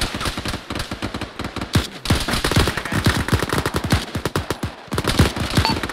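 Dense video game firefight: rapid bursts of machine-gun fire and rifle shots crack in quick succession, loud and near, with short pauses, almost continuous across the whole stretch.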